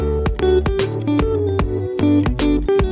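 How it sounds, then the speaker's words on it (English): A recorded guitar part in a song strums bright chords with steady rhythmic hits and a sustained melodic line above a bass, loud and up front with no talking. "So I record the guitar."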